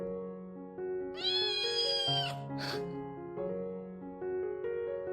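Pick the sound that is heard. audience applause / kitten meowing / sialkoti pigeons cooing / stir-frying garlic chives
kitten meowing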